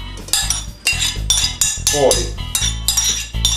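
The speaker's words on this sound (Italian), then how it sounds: "Adesso a freddo mettiamo le nostre lenticchie nella pentola" Dry lentils tumble into a cooking pot, added cold after oil, red wine and tomato paste for pasta e lenticchie. Close, clattering rattles and clinks come in repeated bursts, with a brief voice.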